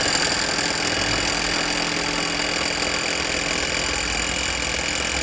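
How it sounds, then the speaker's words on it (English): Electric drill held at full speed during electrical installation work, a steady continuous whine with dense broadband noise running unbroken and loud for the whole stretch, no pauses. "Is that a drill full bore?"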